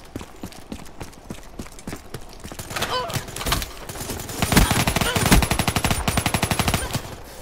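Rapid automatic weapon fire in the multiplayer beta of Call of Duty Black Ops III, loud sustained bursts of close gunshots that build in intensity, with game effects mixed in.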